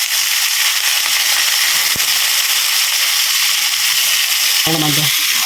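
Pork meat for igado frying in a pan, a loud steady hiss and crackle that continues throughout, with a brief voice near the end.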